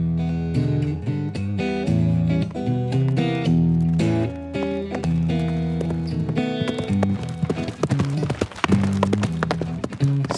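Horse hooves clip-clop in a rhythmic run of steps while horses are ridden and danced with, the beats close and clear under continuous instrumental music.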